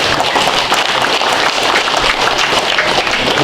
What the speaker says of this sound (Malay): beri tepukan kepada mereka